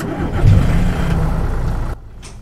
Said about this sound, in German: Motor anmachen, können wir mal anmachen.